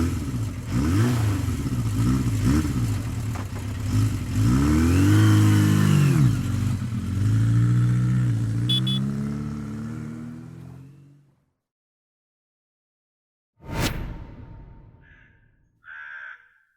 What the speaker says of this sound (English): What are these? They're mopeds.